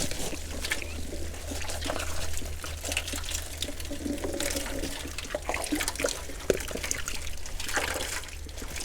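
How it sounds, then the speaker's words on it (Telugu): An AC air filter is rinsed in a basin of water to wash out soap, giving a continuous soft trickling and sloshing of water with small splashes, fairly close and steady. "ఈ విధంగా మొత్తం సోప్ అంతా క్లీన్ అయిన వరకు వాటర్లో క్లీన్ చేసుకుంటాము"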